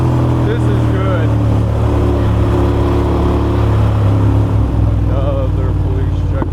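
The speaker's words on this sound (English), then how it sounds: "The exhaust off the mountain." Motorcycle exhaust droning steadily on a coastal mountain road with the sea alongside, a continuous loud engine note with wind rush throughout, echoing off the rock face.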